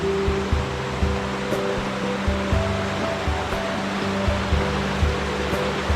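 Steady rushing water of a river being crossed on a mountain trek fills the scene with a constant broadband roar, fast-flowing and nearby, with faint low thumps underneath.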